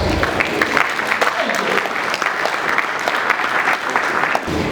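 Conference audience breaking into loud, sustained applause, a thick, continuous roar of many clapping hands heard up close for several seconds, with a voice faintly underneath.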